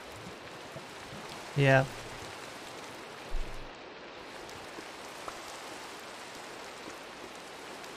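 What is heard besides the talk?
rain in the video game Minecraft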